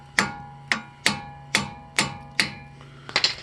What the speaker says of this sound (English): And I'm going to pop them with the hammer.